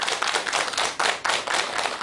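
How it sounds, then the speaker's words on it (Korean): A studio audience gives loud, close clapping with slight rhythmic surges as a psychiatrist is welcomed onto the stage of a talk show. "큰 박수 부탁드립니다."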